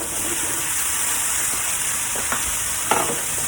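Bottle gourd (upo) pieces go into a hot pan and are stirred as they fry, giving a steady, close sizzle with faint scraping and a few brief clatters from the spoon.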